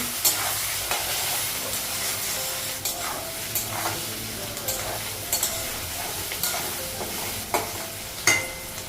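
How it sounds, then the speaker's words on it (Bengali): Onions frying in a pan on a home stove, a steady sizzle with occasional stirring clicks and scrapes, close and alone with no talk. "আমরা পেঁয়াজ একটু ভেজে নেব"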